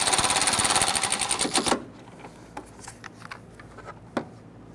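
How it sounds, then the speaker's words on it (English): A screw is snugged into a plastic fender mount on a 1999-2004 Jeep Grand Cherokee during a washer reservoir replacement. Close, loud rapid ratcheting whir lasts under two seconds, then a few soft scattered clicks follow. "Once you get that screw lined up, we can go ahead and snug that down."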